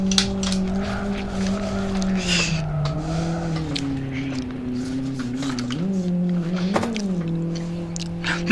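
Car tires squealing steadily while drifting in a VR racing simulator game, a sustained tonal screech that bends in pitch as the slide changes, with engine noise underneath and a brief sharper squeal spike near the end.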